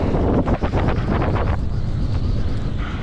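Strong wind buffets an exposed island in below-zero wind chill, a loud steady roar of gusts battering the microphone throughout with no voices.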